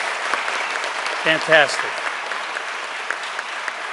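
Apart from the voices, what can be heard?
audience round of applause at a graduation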